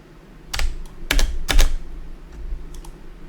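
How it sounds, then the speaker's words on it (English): A few quick clicks and taps on a computer mouse and keys come in short clustered bursts during a CSR Racing 2 session, close and crisp against a quiet room. "You're clicking too much, Max."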